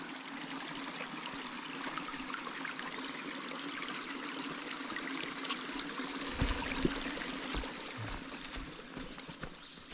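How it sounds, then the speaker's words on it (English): Quiet water trickles and flows steadily over rocks in a small creek along the Black Forest Trail, with a few soft thumps and rustles nearby. "come down into this little creek area"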